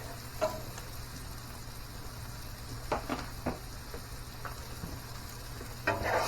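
Corn frying with bacon and seasoning salt in a pan, a steady soft sizzle with occasional sharper pops and light stirring clicks, no talk.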